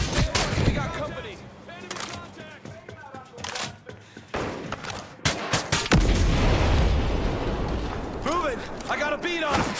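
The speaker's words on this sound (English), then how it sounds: "Incoming sniper fire!" Sniper gunfire in the Ghost Recon Breakpoint video game: several sharp shots and booms crack out amid combat noise, with voices shouting over much of the action.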